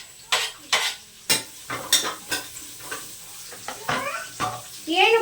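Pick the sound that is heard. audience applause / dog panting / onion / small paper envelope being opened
onion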